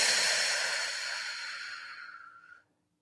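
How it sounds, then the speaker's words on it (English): A long exhale through the mouth during Pilates breath work, a steady airy rush that starts loud and slowly fades over about two and a half seconds before cutting to silence. "And exhale through the mouth"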